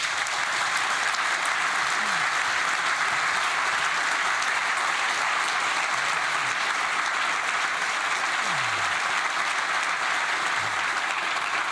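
Steady, sustained applause from a conference audience honoring Russian democracy advocate Yulia Navalnaya, a dense even wash of clapping filling the room for the whole stretch with no voices above it.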